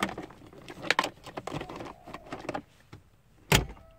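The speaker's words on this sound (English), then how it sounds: "and then just push it up till you hear it click." A Toyota Tarago glove box is pushed up into place during a cabin filter install, giving a sharp plastic click near the end after a run of softer handling knocks and rustles, close and fairly loud.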